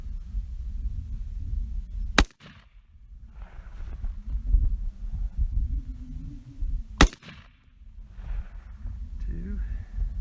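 Two sharp, loud AR rifle gunshots ring out several seconds apart during a first-time shooting session, each a sudden crack followed by a brief echo, with steady outdoor rumble and a person talking in between.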